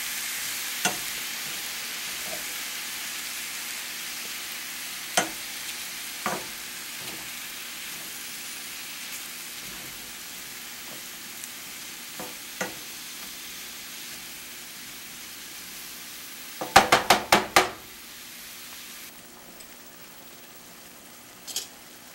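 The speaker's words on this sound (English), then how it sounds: "Let's put in a little beef broth to glaze the pan there, get all that nice stuff off the bottom." Beef broth hitting a hot pan for deglazing gives a low, soft steady sizzle with scattered spoon scrapes and a brief cluster of louder clatters near the end, no voices.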